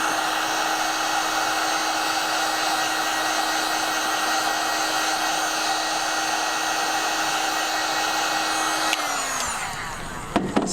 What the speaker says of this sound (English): Now, you can just heat this Worbla up with your heat gun again.